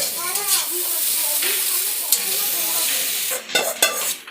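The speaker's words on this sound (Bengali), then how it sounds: "দেখো এইভাবে নাড়াচাড়া করা হচ্ছে এখন চাউমিনটাকে" Kolkata-style vegetable chow mein sizzles loudly in a wok as it is tossed and stirred, with clattering utensil strokes near the end and a voice talking over the opening.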